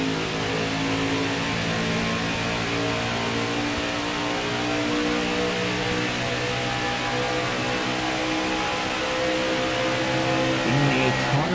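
Racing truck engine in NASCAR Heat 4 at Pocono Raceway, a steady high-pitched roar held at full throttle throughout, loud and continuous with a faint pitch shift near the end.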